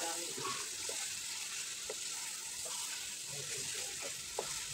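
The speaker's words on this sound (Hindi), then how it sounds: "2 मिनट के लिए इसको मज़ीद भूनेंगे" Chicken browning in a pot for degi-style aloo chicken, a steady faint sizzle with a few light clinks and stirring taps.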